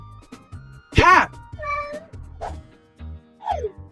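A cat meows several times, loud and close, a drawn-out cry followed by shorter meows, with a voice speaking between them.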